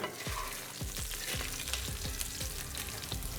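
Potatoes frying for a steak and potato hash, with a steady broadband sizzle filling a pan, punctuated by repeated scraping stir strokes at a regular rhythm, close and fairly loud with no talking.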